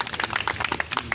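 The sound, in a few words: applause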